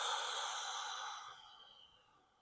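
A person breathing out slowly during a morning breathing exercise, one long soft breathy exhale heard close up that fades gradually over about two seconds, with no talking.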